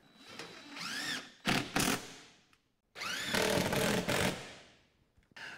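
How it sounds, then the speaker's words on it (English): Power driver sinking screws into a heat pump mounting bracket in a workshop, in two long whirring bursts separated by short pauses and brief taps, close and fairly loud with no talking. "I'm going to go ahead and put an additional probably 8 screws in here and make sure it's secure"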